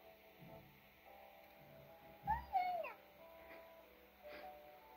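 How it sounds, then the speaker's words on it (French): A cat character in the video game Yandere Simulator gives a short synthetic meow, a rising-falling cry heard clearly over a faint background hum and soft game ambience. "Quand on s'approche de lui, il miaule."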